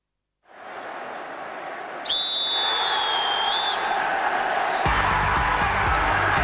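A referee's whistle at a televised rugby league cup match sounds in a couple of sharp, near tones over a steady roar of the stadium crowd, which swells into cheering.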